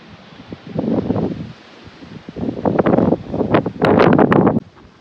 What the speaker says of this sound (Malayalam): നല്ല കാറ്റുണ്ട്.